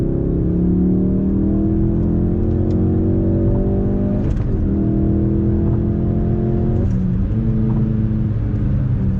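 A Ford Focus RS engine with manual gearbox revs steadily under load after a downshift, a throaty rising drone with brief dips as gears change, loud and continuous.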